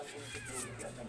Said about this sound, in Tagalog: May mga kuting eh.